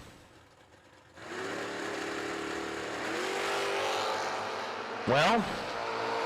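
Drag racing cars, including a Mustang, launch from the line at a summer drag event: engines build to a loud sustained roar with a sharp rising rev burst near the end, while a voice briefly speaks.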